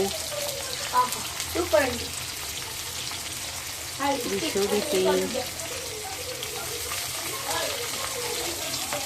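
Onions are sautéed in a pan for an Andhra fish curry, giving a steady, close sizzle with bursts of stirring and scraping and faint kitchen noise underneath.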